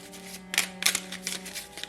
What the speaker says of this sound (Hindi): तो हम इसमें से अभी शफल कर लेंगे